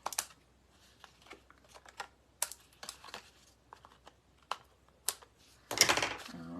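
A paper trimmer slicing the extra off a brayered card, with irregular small clicks and taps, then a short rasping cut near the end, close and quiet.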